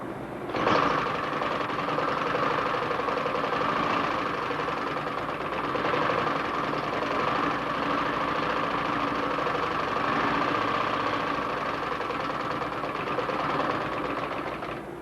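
A Bonnaz chain-stitch embroidery machine runs in a steady, continuous mechanical whir and rattle at close range, holding an even level for the whole stretch with no talk.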